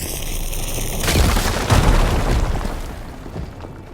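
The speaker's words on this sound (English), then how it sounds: "Should be able to blow up that fire gleam." A fire gleam is blown up in the video game Horizon Forbidden West, setting off a heavy, booming explosion with crackling debris that rumbles and slowly fades over a few seconds.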